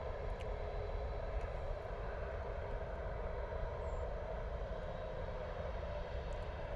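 A TUI Boeing 737 at Bristol Airport producing a steady, broad engine roar that holds at an even level throughout, with no talking.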